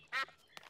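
A cartoon duck at a duck pond gives one short, bright quack, followed by a second faint, brief call, close and quiet with no talking.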